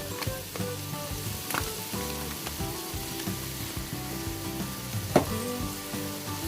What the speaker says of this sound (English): And we're just going to fry this for a few minutes.